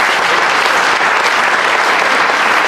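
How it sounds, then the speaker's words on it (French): A crowd at a local celebration in Plouvien for a junior cycling world champion gives loud, steady applause, a thick unbroken wash of clapping filling the whole stretch. "son capitaine, vous pouvez encore l'applaudir, Olivier"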